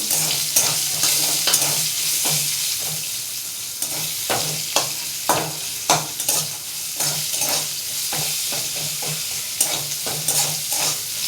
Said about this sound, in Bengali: আর এখানে কিছুটা পেঁয়াজ আমি ভেজে দেবো